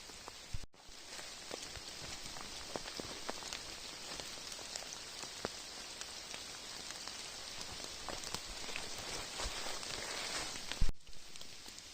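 Steady April rain patters on a surface in the Carpathian mountain forest, a dense even hiss of drops with a couple of louder knocks near the start and end.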